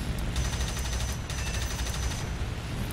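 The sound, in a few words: La-5 fighter plane firing its guns in a flight video game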